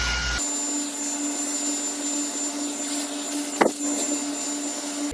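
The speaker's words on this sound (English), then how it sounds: "The trick with blow drying your hair is you want to make sure all of this gets really dry" A hair dryer blow-drying hair with hair extensions at home, giving a steady, close, loud whooshing airflow with a constant motor whine, briefly interrupted by a soft knock or handling sound.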